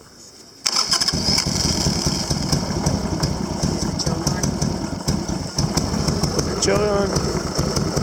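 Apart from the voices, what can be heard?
Harley-Davidson Sportster motorcycle engine starting and idling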